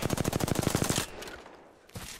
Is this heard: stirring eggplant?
no